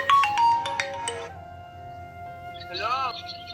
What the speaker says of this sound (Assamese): হীৰকে ফোন মাৰছি আমাক